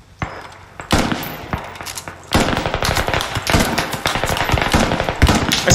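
Military video game combat against a Russian attack erupts into rapid bursts of sharp, loud gunfire, the cracks piling up densely after a quieter opening, with no speech.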